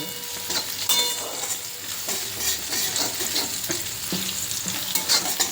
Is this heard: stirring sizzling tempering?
yes